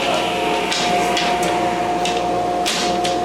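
A woodshop saw and dust collector run together while building kitchen cabinet face frames, a loud steady motor whine with a constant tone and airy rushing, broken by a few soft knocks.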